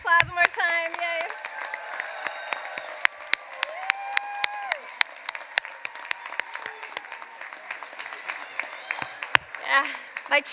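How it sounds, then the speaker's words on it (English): Applause for graduates at a medical school commencement ceremony, sparse sharp claps and a few cheers scattered over about ten seconds, with voices and tonal sounds running beneath. "Let's give a big round of applause one more time"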